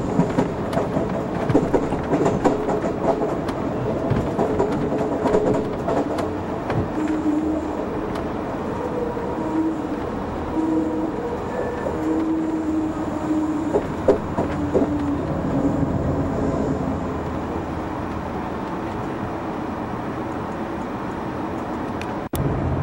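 Amtrak Southwest Chief passenger train rolling over rough track, a continuous low rumble inside the car punctuated by repeated clacks and jolts, with a faint squeal drifting through the middle stretch.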